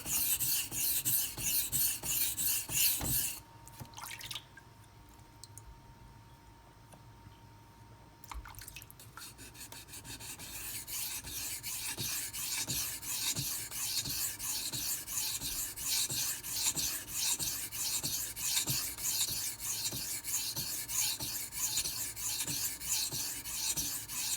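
A knife blade is convexed on Pride Abrasive water stones with a gritty, wet rasping of repeated strokes, loud and close, pausing briefly for a few quieter seconds before resuming in steady rhythm.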